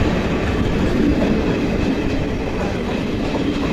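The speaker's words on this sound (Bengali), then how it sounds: "ট্রেন কিন্তু এখন ঢুকে গেছে" A Sealdah–Jangipur passenger train pulls into a station with a steady, loud rumble and clickety-clack of wheels on rails, continuous throughout with no voices.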